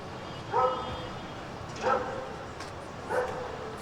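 A dog on a farm barks three times, a single short woof roughly every 1.3 seconds, at moderate distance against steady outdoor background noise.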